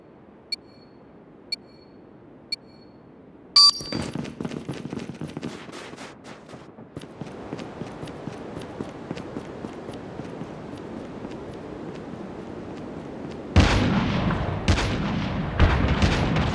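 Sniper rifle fire in a video game: a few sharp, isolated cracks early on, then a heavier blast followed by crackling, rapid impacts and a louder final burst.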